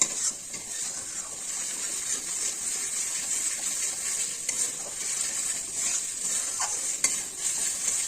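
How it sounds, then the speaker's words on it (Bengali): Garlic paste and spices fry in oil in a pan for cauliflower roast, a continuous soft crackling sizzle with occasional scrapes and clinks of stirring, close and steady without talk. "এখন আমি এভাবেই আস্তে আস্তে ভাজবো।"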